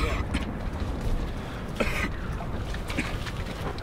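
A few short, rough coughs break out among low murmuring voices, close by and brief.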